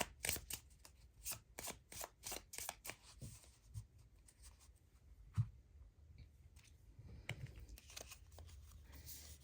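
Forest Friends tarot cards are shuffled in a quiet room, with soft rapid riffles in several bursts followed by lighter card handling and taps. The sound is close and faint, and no one speaks.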